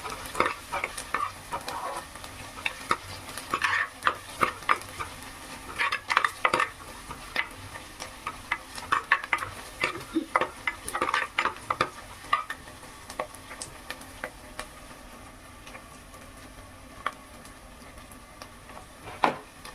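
Ginger garlic paste stirred into onions frying in oil for a fish gravy, with a steady low sizzle and repeated scrapes and clinks of a spoon against the pan, close and without any speech.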